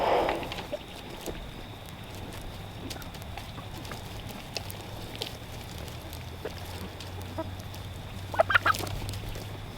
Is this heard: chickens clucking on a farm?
yes